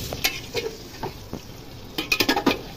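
Chicken pieces sautéing in onion-flavoured oil for Kolkata-style biryani, a steady sizzle broken by repeated scraping and stirring strokes of a utensil in the pot, busiest near the end, with no talking.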